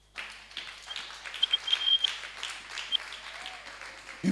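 A church congregation bursts into applause after a sermon, a rippling wash of clapping hands that swells and fades over a few seconds, with scattered cheers and a faint voice rising near the end.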